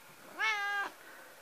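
A pet cat gives a single clear, drawn-out meow, close and fairly loud against a quiet room, with no voices.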